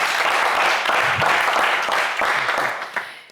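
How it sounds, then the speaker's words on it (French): A TV game show studio audience gives a contestant strong, sustained applause that stays dense and loud before tapering slightly at the end, with no talk over it. "on va vous applaudir quand même très, très fort."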